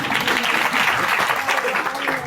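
An audience claps in dense, continuous applause, loud and steady for the full stretch, with faint voices mixed in.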